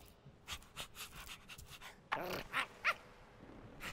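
Rhythmic dog panting from the video game Minecraft: Story Mode, fairly close, in quick breathy bursts with a few sharper yelps or squeaks near the end; no one talks.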